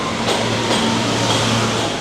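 A New York subway E train bound for Jamaica Center sits at the Van Wyck station platform, giving off a steady loud rumble and hum with faint clatter and no talking.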